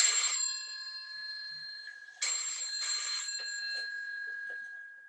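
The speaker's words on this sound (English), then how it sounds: "when the phone rings." An old-style telephone bell rings in a quiet home, two bursts of shrill metallic ringing separated by a short pause, close and clear with no talking.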